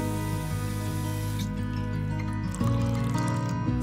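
Water pours from a tin into a pot of black beans, a continuous splashing trickle that shifts in pitch as the pot fills, with a second pour starting partway through.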